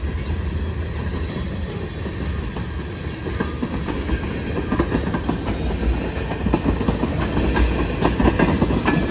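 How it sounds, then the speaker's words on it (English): A heavy loaded freight train rumbles past close by, deep low-end roar with steady clickety-clack of wheels on rail joints, growing slightly louder over time. "I can feel the ground shaking. This train is loaded too."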